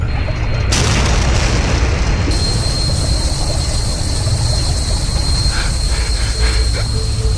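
A loud, roaring explosion in the survival video game Stranded Deep fills the scene with a dense, sustained rumble that stays heavy and continuous from start to finish.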